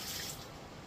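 Water is poured carelessly and spills onto an indoor floor: a brief, faint rush of splashing liquid.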